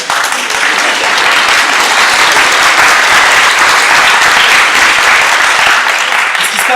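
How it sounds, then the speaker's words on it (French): Loud, sustained applause from a theatre audience at a stage play, dense and even throughout with no pauses. "Pourquoi vous applaudissez?"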